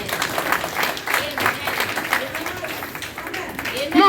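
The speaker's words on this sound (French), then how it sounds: "applaudissements" A church congregation claps in brief, uneven bursts that rise and fall over a few seconds, fairly close and loud, with a voice breaking in at the very end.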